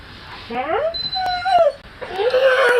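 A dog whimpers and whines close by in cold, windy weather, a series of rising and falling high-pitched cries in two bursts separated by a short pause.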